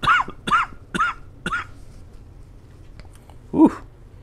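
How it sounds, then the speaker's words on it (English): A person coughs four times in a quick, evenly spaced series, then gives one final heavier cough or throat clear after a short pause, all close and fairly loud. "1 second, I'm gonna cough"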